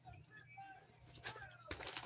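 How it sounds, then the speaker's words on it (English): Pigeons cooing and flapping their wings nearby during a casual livestream, soft coos followed by two bursts of wing flutter, with a low background hum. "Don't get those birds too high."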